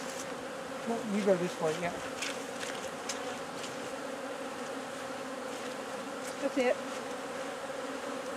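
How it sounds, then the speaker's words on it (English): Bees buzzing steadily throughout a beehive inspection, a dense continuous drone close by, with people talking briefly over it. "Bees are not happy."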